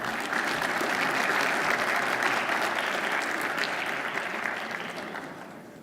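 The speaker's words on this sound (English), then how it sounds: "Please give him a big round of applause." An audience at the India Conference 2017 at Harvard applauds keynote speaker Vinod Rai, a full, steady roomful of clapping that gradually thins and fades toward the close.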